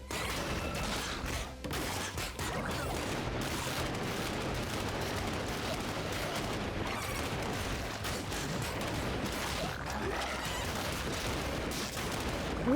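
Dense, continuous barrage of rapid gunfire-like shots and impacts from a boss in the roguelite action game ScourgeBringer, loud and unbroken throughout with no pause.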